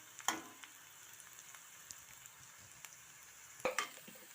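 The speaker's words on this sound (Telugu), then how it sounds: "ఉల్లిపాయ ముక్కలు వేగిపోయినాయండి" Onion pieces fry in a wok for a vegetable biryani, a faint, quiet sizzle running underneath with a few sharp utensil clinks and taps against the pan, no voices.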